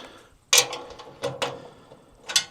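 A bolt is loosened on a Wolfe Ridge VS umbrella mount accessory, giving a few sharp metallic ratcheting clicks and scrapes in short bursts, close and fairly loud with quiet gaps between, no voices.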